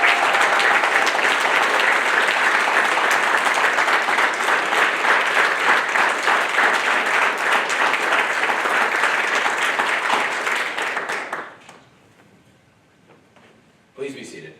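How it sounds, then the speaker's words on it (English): Loud, sustained applause from a large crowd at a Navy Nuclear Field A School graduation, steady for about eleven seconds before fading out, followed by a brief stir of noise. "please join me in a round of applause"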